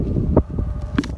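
Strong wind buffets a microphone outdoors in the Flint Hills, a low rumbling roar with gusty bumps and brief thumps over a short stretch.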